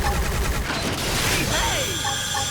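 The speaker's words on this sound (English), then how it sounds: "Launching missiles!" Missiles launch during a battle in the video game Xenoblade Chronicles X, a loud, dense volley of blasts and whooshes with a rising streak near the end, over steady game noise with a voice talking.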